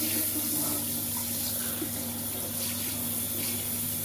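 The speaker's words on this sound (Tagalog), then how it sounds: "hugasan po natin itong ating cucumber" Tap water runs steadily into a sink as a cucumber is rinsed under it, a continuous close splashing stream with no talking.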